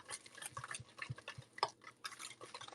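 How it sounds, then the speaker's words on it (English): A whisk beats sweet caramel latte batter for bread in a bowl, giving quiet, uneven scraping and clinking taps that come in short bursts, close by. "You use a whisk to incorporate air into your batter"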